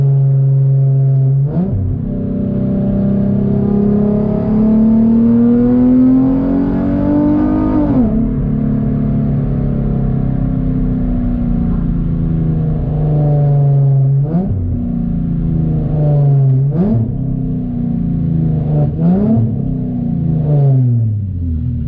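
Infiniti G37x with a gutted exhaust revving hard while driving, a loud, brassy engine note rising and falling through several throttle blips and downshifts, close and continuous with no talking.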